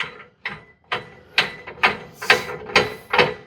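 A wrench ratchets on a nut on an RV slide-out actuator, giving a series of about eight loud, close, clicking strokes at a fairly steady pace, with no talking.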